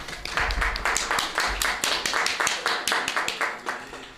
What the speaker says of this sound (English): we need to give them a bigger round of applause.